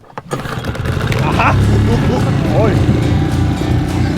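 A small boat engine sputters and catches, then settles into a steady, rough running drone close by, with people talking and exclaiming over it throughout.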